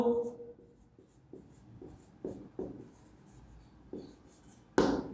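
Chalk or marker strokes on a classroom board during an English grammar lesson, a series of short scratchy taps and scrapes spaced irregularly, close and fairly clear, with a louder final stroke.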